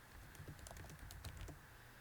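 Quiet, close clicking of fingers typing on a computer keyboard, a brisk uneven run of keystrokes over a steady low hum.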